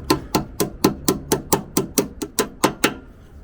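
Someone knocks a bolt through the rear spare wheel carrier of a VW T5/T6 campervan, making about twelve sharp metallic taps in a quick, even rhythm, close and loud, with no talk.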